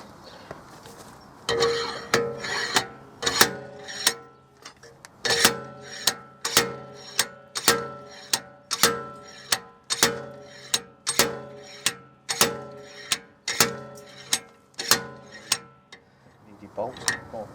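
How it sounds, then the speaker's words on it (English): Repeated sharp metallic clanks from a slide hammer pulling a stuck wheel bearing flange on a 2007 BMW E91 335i, striking in a steady rhythm of about one hit per second, loud and close. "The slide hammer to pull this flange out."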